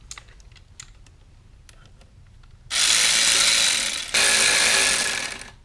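A ratchet works a hose clamp on a Jeep during a throttle body replacement, with faint clicks early on, then two long bursts of loud, dense clicking close by.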